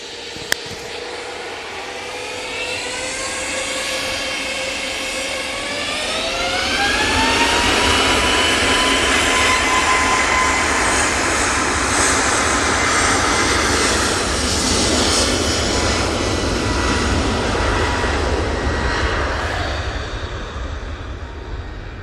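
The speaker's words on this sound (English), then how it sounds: "EasyJet A321neo now lining up for its departure" EasyJet Airbus A321neo jet departing Manchester Airport, its engines spooling up with rising whining tones into a loud, sustained roar that swells and holds steady, heard from nearby.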